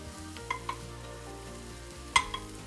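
Mushrooms and lardons fry gently in a pan, a low quiet sizzle with a couple of brief utensil clinks and taps.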